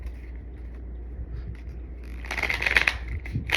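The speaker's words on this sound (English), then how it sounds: "one last shuffle for Gemini." Tarot cards being shuffled by hand, a short burst of riffling and card slaps building near the end, close and fairly quiet over a low steady background hum.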